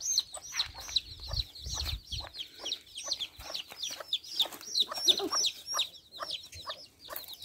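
A hen clucks in rapid, repeated short calls close by on a rural farm, with other chickens chattering around her and a few soft low thumps early on.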